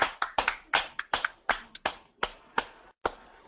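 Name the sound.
audience clapping to welcome Mark Nathwani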